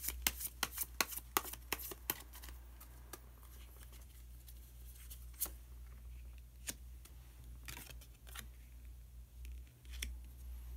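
Tarot cards are shuffled and drawn in quick, close, crisp flicks that cluster early and then thin to occasional soft snaps over a low hum, with no talk.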